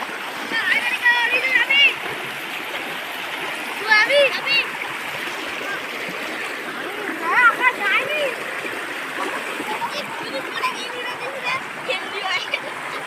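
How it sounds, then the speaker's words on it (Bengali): Strong floodwater current rushes through a village after a day of heavy rain, a steady broadband roar of flowing and splashing water with occasional surges, with faint voices in the background. "কোথায় বিশাল স্রোত এখানে বিশাল সোঁত টেনে নিয়ে চলে যাবে"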